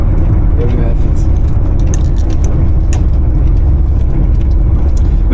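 Tires of a Mercedes-Benz W123 rolling over gravel, a dense low crunching rumble with scattered stone crackles under a loud engine and cabin drone, steady throughout.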